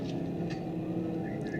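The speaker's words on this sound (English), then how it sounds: "That was a Porsche for sure, for sure." A Porsche car drives past, a steady broadband engine and road roar holding level through the short moment, fairly close, with no clear build or fade.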